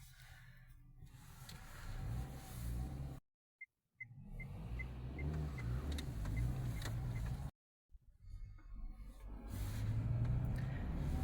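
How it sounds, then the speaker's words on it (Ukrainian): A car driving home through a city at night, with a steady low engine and road rumble filling the interior, broken by two brief silent gaps. "Дідушка за руль сів, їдемо додому."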